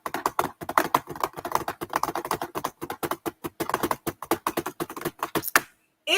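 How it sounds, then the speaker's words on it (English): Rapid typing on a computer keyboard, a long run of crisp close key clicks in an uneven, busy rhythm, stopping abruptly near the end. "typing like Sharon be doing"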